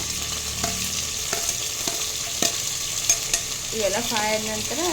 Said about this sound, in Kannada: ಹಸಿಮೆಣಸಿನ್ಕಾಯಿ, ಬಟಾಣಿ ಇವ ಸ್ವಲ್ಪ ಎಲ್ಲ ಫ್ರೈ ಆದ ನಂತರ